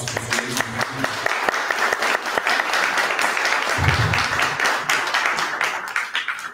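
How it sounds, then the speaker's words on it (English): Audience applause for a discussion panel, a dense burst of many hands clapping that swells and carries on steadily for several seconds in a large room, close and loud. "I'm gonna give them a quick round of applause for this."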